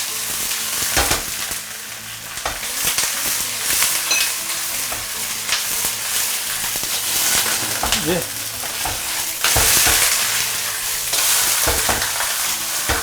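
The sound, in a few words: fish head frying on both sides in a wok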